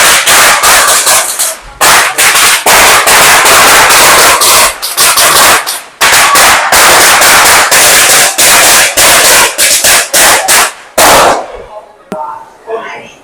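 Firecrackers go off in rapid, loud, crackling bursts near a temple in Genting Highlands, Malaysia, with dense repeated pops and brief gaps, tapering off at the end.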